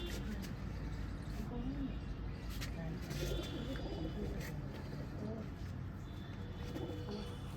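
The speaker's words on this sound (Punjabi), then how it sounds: "ਇਹ ਮਾਦੀ ਲੱਗੀ ਜੀ ਅੰਬਰਸਰੀਏ ਲਾਖੇ ਕਬੂਤਰ" Amritsari Lakha pigeons coo softly on a rooftop loft, the low murmuring steady under a constant hum of background noise and occasional faint chirps, with someone speaking nearby.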